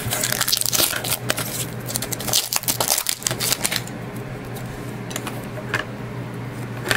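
A hockey card pack is torn open close up, with a steady crinkling and rustling of foil wrapper and dense clicking crackles throughout.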